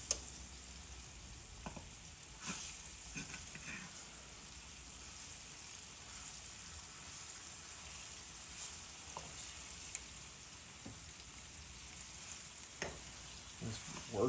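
Beef liver browns in hot frying oil with a steady, faint sizzle and crackle, plus occasional soft pops and scrapes as the pieces are worked back and forth in the pan, with no talking.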